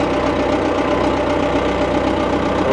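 A small tractor engine idles steadily at close range, with a low, even knocking rumble and no voices.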